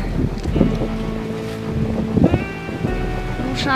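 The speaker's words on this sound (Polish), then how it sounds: "jego motorówka odpływa w stronę lądu Sardynii" A motorboat pulls away toward the Sardinian shore in strong wind, with a steady low rumble under gusty wind buffeting and splashes of waves, no talking.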